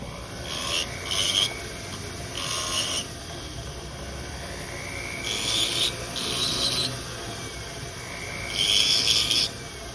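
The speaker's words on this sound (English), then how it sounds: "still drilling little marks where those dots were" A small drill marks a gold engagement ring in short bursts of high whirring, four or five separate runs close by with quiet gaps between them and no voices.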